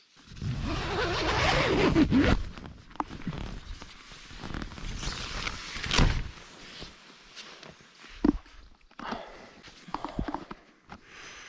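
Tent zipper opened at a mountain campsite: several quick close rasping zips with rustling fabric and shuffling movement between them, fairly quiet and without talk.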